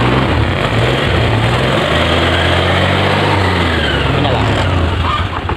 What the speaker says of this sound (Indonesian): Sekarang dicoba di starter, apakah dia menyala?